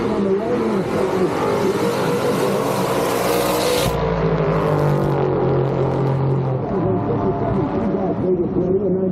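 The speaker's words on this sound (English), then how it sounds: "Gleason Smith will line up with the full-size pickup truck." Loud racing pickup truck engines roar steadily, with a high revving whine that cuts out partway, followed by a lower rumbling motor; an announcer's voice runs underneath.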